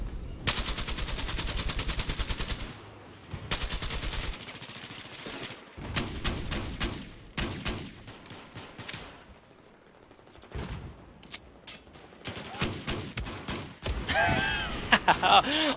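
Rapid bursts of automatic gunfire and single shots in Battlefield 4 multiplayer, loud rattling volleys with gaps between them, and a player talking in between.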